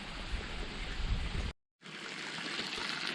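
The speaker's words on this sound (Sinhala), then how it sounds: "උඩහ කන්දෙන් එන්නේ හැබැයි වතුර." A mountain stream on the Pekoe Trail between Hanthana and Galaha flows in a close, steady rushing babble. The sound breaks off into silence for a moment, then resumes. No one speaks.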